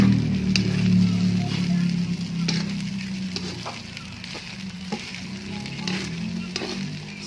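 Fried rice with egg and leftover meat (sinangag) sizzles and hisses in a pan at close range, with occasional stirring knocks and the sizzle easing off midway.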